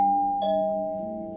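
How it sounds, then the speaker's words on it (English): A two-tone electronic doorbell chime rings indoors in a Jakarta hotel room, its sustained tones lingering and slowly fading over a steady low hum. "that's the doorbell"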